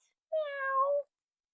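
A single drawn-out cat meow, clear and close, rising slightly then trailing off, with silence before and after.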